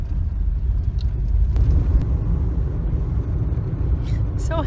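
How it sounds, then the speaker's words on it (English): A truck passing on an outback road on the drive to Douglas Daly Hot Springs, a loud low rumble swelling and holding steady close by, with faint chatter. "There was another truck, it went past"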